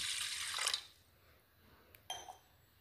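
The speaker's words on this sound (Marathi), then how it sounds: "इथे पाहू शकता कुकरमध्ये 1 ग्लास पाणी टाकून" A glass of water is poured into a pressure cooker: a short, close splash for under a second, followed by faint drips and a couple of small clinks in a quiet room.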